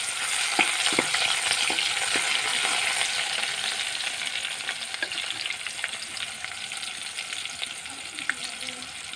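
Chopped onions fry steadily in hot oil, a continuous bright sizzle with occasional crackles and a few soft stirring knocks, close and alone without talk.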